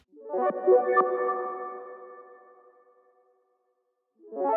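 Synth chords arpeggiated through a Polyverse I Wish plugin on an arp track, shimmering filtered tones with a few plucked accents that swell then fade to silence before another chord enters, close and without voices.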